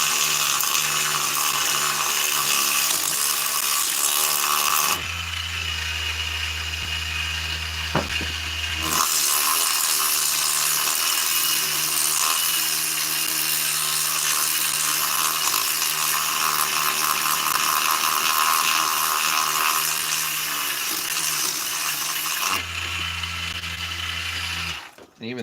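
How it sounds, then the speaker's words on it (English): Power sander working 50 grit abrasive over the lower part of a chainsaw intake port, a steady loud whine that runs nearly continuously, with two brief pauses where a low hum takes over. "I'm just giving the lowers a quick going over here with some 50 grit."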